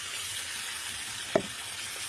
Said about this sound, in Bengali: সুন্দর করে নেড়ে মশলাটাকে সুন্দর করে কষিয়ে দেবো